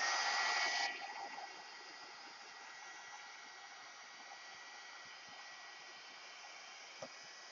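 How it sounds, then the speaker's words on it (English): A heat gun blows a steady, loud broadband hiss while drying a craft project of altered file folders; it is strongest in the first second, then drops to a softer continuous rush that runs alone to the end. "heat gun coming up"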